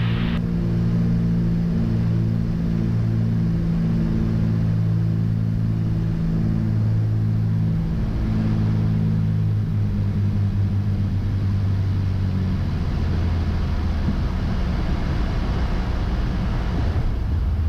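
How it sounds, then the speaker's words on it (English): A small airplane's engine hums steadily as the throttles ease back during landing, and the rumble shifts as the power drops off, with runway noise following. "That was one of my better landings in a while."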